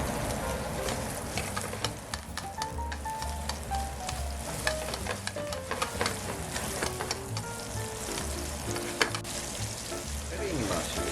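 Bacon frying in a pan for a homemade bacon and broccoli penne, a continuous close sizzle and crackle with occasional stirring scrapes, no talk.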